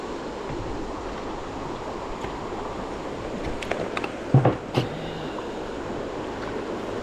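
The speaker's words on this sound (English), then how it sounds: "this is a long, sweeping set of rapids up against this vertical rock bluff here." Long, sweeping river rapids on the Jackson River in Covington, Virginia, rushing against a vertical rock bluff: a steady, broad wash of water noise with a few brief knocks and splashes near the middle.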